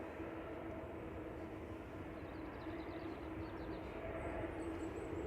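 An Airbus A380 airliner taxis at Manchester Airport, a faint, steady broadband engine rumble heard from a distance without pause.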